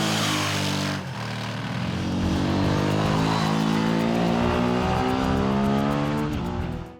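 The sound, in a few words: Ducati motorcycle engine revving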